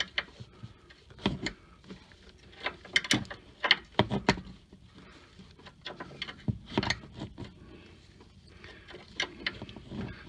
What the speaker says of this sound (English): Tighten it up with my line wrench.